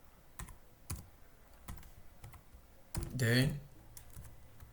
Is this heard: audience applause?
no